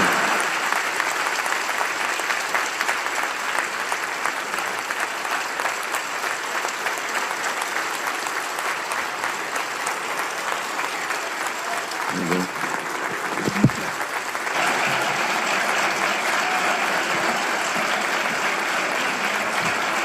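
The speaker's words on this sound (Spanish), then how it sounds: "Un aplauso para Xochitl Gálvez." Audience applause at a Citibanamex 2024 meeting for Xochitl Gálvez: a dense, sustained crowd clapping that fills the whole stretch at steady volume, with a brief lull and a thump midway before it picks up again.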